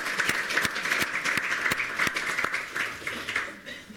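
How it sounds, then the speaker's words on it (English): Applause from a seated audience at a medical society fluids teaching session: scattered, fairly thin clapping with distinct sharp claps standing out, steady at moderate loudness for the whole stretch without voices. "So one big round of applause for them again."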